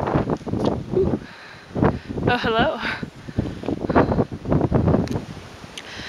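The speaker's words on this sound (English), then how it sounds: "It's windy though." Gusty wind buffets the microphone in low rumbling surges near cliffs at Petra, Jordan, while a person speaks briefly over it outdoors.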